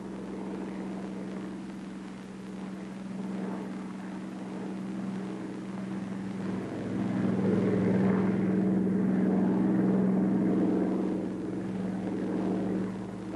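A Bell P-39 fighter plane's engine drones at full throttle, a steady loud hum that swells midway, with no voices over it.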